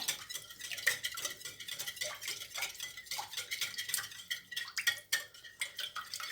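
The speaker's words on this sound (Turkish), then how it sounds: "Karıştırıyoruz." Oil being stirred by hand into a cauliflower gratin mixture in a bowl, a utensil ticking and scraping against the sides in a steady, close rhythm with no talking.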